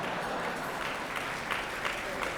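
Audience applause at a business alliance annual meeting in New Orleans, a steady dense patter of many hands clapping at moderate distance, filling the whole moment without a break.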